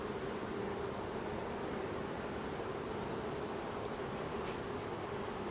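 Honey bees buzz steadily around an open nuc box as frames are lifted out, a dense, even hum of many insects close by with no pauses.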